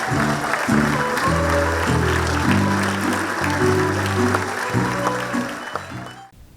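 Audience applause for a Veles theatre company's performance in Kumanovo, a steady wash of clapping under loud music with deep, stepped tones, fading out at the end.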